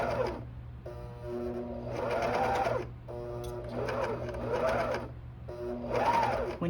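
A coverstitch machine fitted with a binder attachment sews binding in short bursts, its motor whirring and stitching rhythmically, then pausing between each run, close and fairly quiet.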